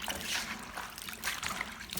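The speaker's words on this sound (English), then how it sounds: "Now rinse the ginger slices with water." Water splashes and trickles steadily over sliced ginger as it is rinsed, a continuous close hissing wash with small surges and no talk.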